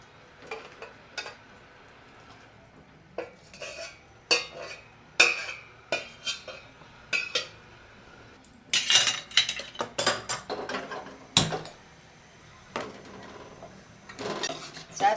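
A spoon scrapes and clatters in a pan as roasted mava is stirred with sugar syrup for gundar paak, giving irregular bursts of metallic knocks and scraping close up, with no talking.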